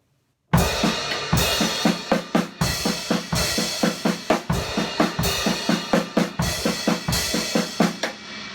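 A drum set plays a crash cymbal accent pattern at a slow tempo. Evenly spaced accented crashes wash over steady drum hits, close and prominent, with no voices.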